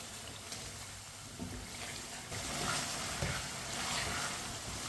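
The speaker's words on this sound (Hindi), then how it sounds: "आप इसे चम्मच चलाते हुए 3 मिनट के लिए पका लेंगे।" Potatoes frying in a pan over medium heat while being stirred with a spoon for an aloo matar curry, a steady close sizzle with soft scraping stirs that grows slightly louder midway.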